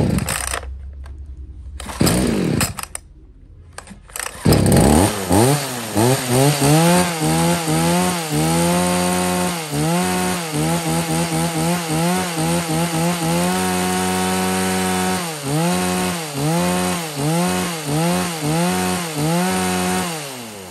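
A petrol chainsaw from a lot of used STIHL, Komatsu, Echo and Ryobi saws starts after a couple of pulls, then runs loud and close, its engine revving up and down in a steady repeating rhythm.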